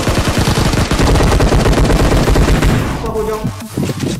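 Rapid automatic gunfire in an online multiplayer game, loud, close and continuous bursts of shots that thin out toward the end as a voice briefly speaks.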